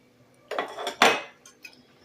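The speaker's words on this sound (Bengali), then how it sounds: "চিংড়ি মাছটা দিয়ে আবার একটু নেড়ে নেব।" Fried prawns tipped into a curry and stirred in the pan, a couple of quick close metallic clinks and scrapes of a spoon against the pan, then quiet.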